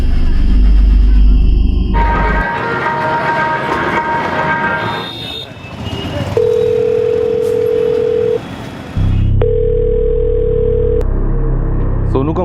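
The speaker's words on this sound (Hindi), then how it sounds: "रिंग तो शाम से ही जा रही है।" A mobile phone's ringback tone sounds in two long steady beeps separated by a short gap, after a stretch of loud talk and background noise.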